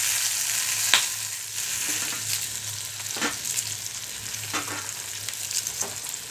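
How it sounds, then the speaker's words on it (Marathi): Chopped onion frying in a little oil for a traditional Maharashtrian roasted brinjal curry with black garam masala: a steady close sizzle, with a few stirring scrapes every second or so and no talk. "हा कांदा असाच्या असा मी याच्यामध्ये टाकायचा. हा थोडासा तेलामध्ये काढून घ्यायचा आहे आपल्याला."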